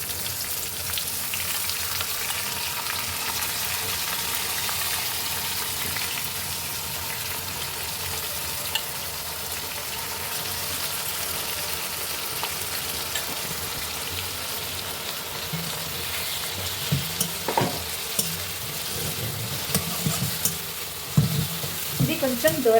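Ground onion paste with curry leaves frying in hot oil in a pan, a steady close sizzle throughout, with occasional stirring scrapes and taps near the end.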